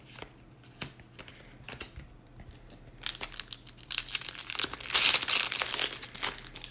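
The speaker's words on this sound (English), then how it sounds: "Packs open pretty easily." A Magic: The Gathering Ixalan booster pack's foil wrapper crinkles, then rips open in a close, loud burst of tearing and rustling that builds toward the end.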